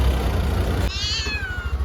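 A cat, arriving where milk is set out, gives one clear, drawn-out meow at close range. A low engine-like rumble sits underneath.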